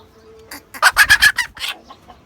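Chickens and a Tiger-breed rooster clucking up close, a quick run of loud rhythmic clucks and squawks rising mid-clip, then tapering into softer calls.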